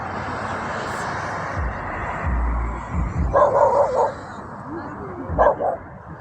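A dog barks a few times outdoors while people talk nearby, short sharp barks standing out from a steady background rumble.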